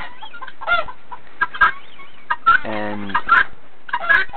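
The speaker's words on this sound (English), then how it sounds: "pearl and buff dun-dot guinea fowl." Pearl and buff dun-dot guinea fowl on a bird farm give repeated sharp, raspy calls in short bursts, fairly close, with a single spoken word at the start.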